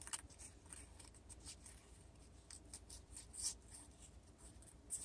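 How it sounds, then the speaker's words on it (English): Scissors cut paper into a spiral for a handmade paper flower, giving quiet, close, repeated snipping and rustling strokes over a faint background. "So go ahead and cut this into a spiral."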